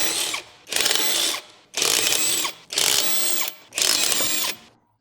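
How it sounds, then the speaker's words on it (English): An impact wrench fitted with a 19mm deep socket spins off lug nuts from a 2012-2016 Chevrolet Cruze, firing five loud, evenly spaced rattling bursts, each lasting about half a second, with short pauses between them. "Use the 19mm deep socket with the impact wrench to remove the lug nuts"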